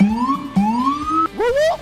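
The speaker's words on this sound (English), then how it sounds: "Lights and siren, let's go." A police car siren wails nearby, rising in repeated sweeping pitches, loud and alone without talk.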